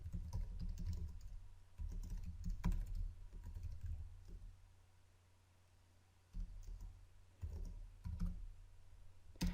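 Keys clatter on a computer keyboard in quick bursts, close up, with a short quiet pause in the middle.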